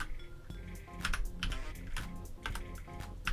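Rapid typing on a computer keyboard, a steady run of close, crisp keystroke clicks with a few heavier key presses, and no voices over it.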